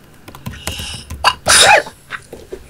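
A single loud sneeze bursts out mid-clip among quieter breathy sounds and faint background noise, heard while friends play Minecraft together.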